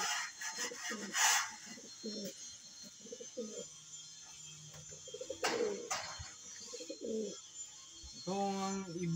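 Racing pigeons coo softly in a loft, with repeated low throaty coos in short bursts, a few wing flutters and rustling in between, and a brief voice near the end.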